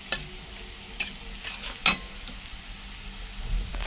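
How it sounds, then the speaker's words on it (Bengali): Onions with black cumin fry in a wok, a low steady sizzle broken by a few sharp stirring scrapes, close and without speech. "পেঁয়াজটা লাল লাল করে ভাজা হয়ে গেল।"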